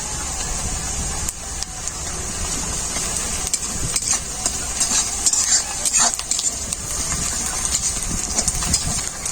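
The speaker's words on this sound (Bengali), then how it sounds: "আদা আর পেঁয়াজ ভালো করে ভাজা হয়ে গেছে।" Ginger paste and onions fry in a pan with a continuous close hiss and crackle, and irregular stirring scrapes and clinks run through it at a steady loudness.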